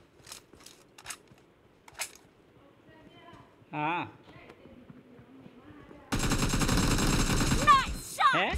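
Gunfire in the mobile battle royale game BGMI: scattered single shots early on, then a sustained burst of rapid automatic fire in the second half, with players' voices talking over the game sounds.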